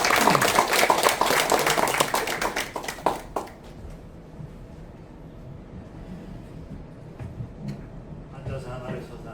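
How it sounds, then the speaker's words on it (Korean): Brisk hand clapping from a book concert audience welcoming a guest speaker, loud for about three seconds before cutting off into quiet room tone with faint murmurs and shuffling. "나오실 때 큰 박수 부탁드리겠습니다"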